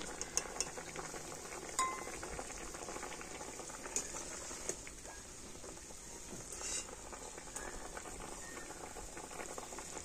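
Cauliflower boiling in a pot of water, a faint, steady bubbling hiss with occasional light clinks and stirring taps, quiet and without voices.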